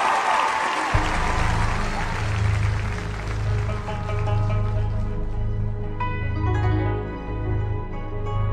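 Loud audience applause welcomes two singers onto a concert stage, then a song's music starts after about a second and plays on with the clapping fading beneath it.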